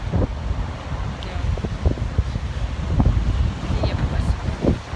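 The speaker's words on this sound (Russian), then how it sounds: "Ветер просто сейчас нереальный на улице." Strong wind on Tverskaya Street in Moscow buffets the microphone with a constant low rumble and gusty thumps throughout.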